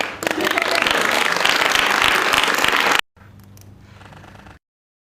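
A group of women applaud loudly as abortion legislation is signed in Massachusetts; dense clapping runs about three seconds, cuts off abruptly, then quieter clapping and murmuring follow before silence.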